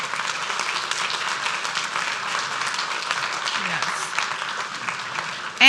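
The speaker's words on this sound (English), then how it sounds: "We should all be applauding." An audience at a city council meeting applauds, a steady, even wash of clapping from many hands at moderate distance, holding level throughout, with a brief voice at the very end.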